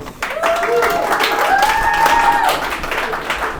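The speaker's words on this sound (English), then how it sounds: "another round of applause to Gareth." An audience at an indie games conference talk claps in a burst of applause, with a few voices and cheers rising over it before the clapping holds steady.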